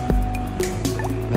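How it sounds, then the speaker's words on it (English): A few small watery plops and drips as a golf ball lands in water in a video game, short and close, with liquid squishing sounds over a low steady hum. "The natural sounds of the water being heard when a golf ball is being hit into it."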